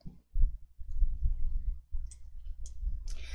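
A few sharp, quiet mouse clicks land on Excel's sort descending button, spaced apart over a low, soft background hum.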